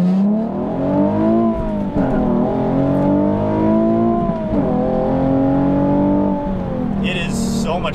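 A Nissan 370Z fitted with a cold air intake pulls hard from first gear, its engine note loud and close, swelling and climbing in pitch through sustained revs.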